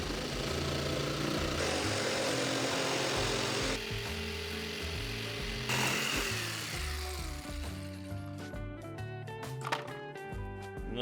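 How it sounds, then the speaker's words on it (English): A power saw cuts a hull shape from scrap plywood, a loud, close buzzing drone for several seconds that ends partway through, followed by lighter tonal sounds. "Next, I got a piece of scrap plywood, traced out the hull shape, and cut it out."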